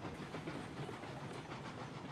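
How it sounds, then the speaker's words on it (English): A long freight train rolls down a steep grade in the Railroads Online video game, a faint, continuous rumble with hiss and light rhythmic clatter of the cars. "that's snaking down through there, that whole train"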